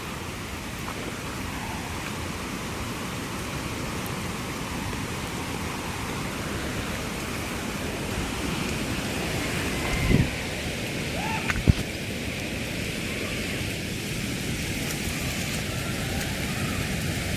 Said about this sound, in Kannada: ಫಾಲ್ಸ್ ಸೌಂಡ್ ಅಂತೂ ಸಿಕ್ಕಾಪಟ್ಟೆ ಜೋರಾಗಿದೆ.